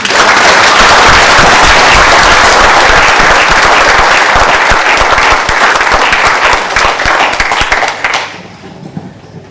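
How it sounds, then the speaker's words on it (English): Sustained audience applause at a graduation ceremony, a loud dense clapping from a large crowd that keeps going for about eight seconds before fading out abruptly. "I think we should all give Jennifer a big round of applause"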